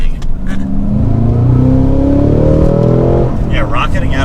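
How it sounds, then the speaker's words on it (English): A 2022 Cadillac CT5-V Blackwing with a manual gearbox and winter tires powers out of a turn on a mountain road, its engine note rising loud and steady throughout, with a voice speaking in the car. "Yeah, rocketing out of a turn, it hooks so well."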